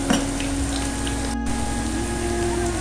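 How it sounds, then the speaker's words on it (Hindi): Chopped ginger and garlic frying in oil for masoor dal, giving a steady, dense sizzle and crackle throughout with no voices. "इसको भी हमने इतना भून लेना है कि इसका लहसुन का जो है वो कच्चापन निकल जाए, इतना सा हम इसको भून लेते हैं"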